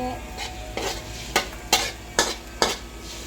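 Bangus steak with soy sauce is stirred in a sizzling pan, with a utensil scraping in about six regular strokes over a low frying hiss, close up and with no voices.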